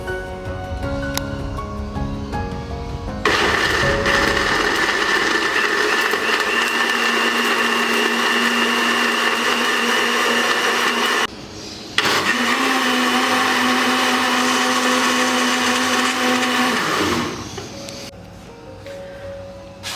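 An electric blender whirs loudly and steadily while blending fruit and vegetable juice with sugar and water, running continuously with one brief pause before winding down at the end.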